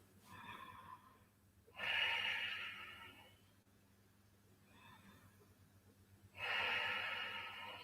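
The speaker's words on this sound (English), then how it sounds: "3 more breaths" Two slow, deep breathing cycles during a restorative practice session. Each has a long, soft inhale followed by a stronger, breathy exhale that is close and quiet. No talking.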